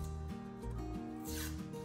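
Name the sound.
peeling back the wrapper of a biscuit can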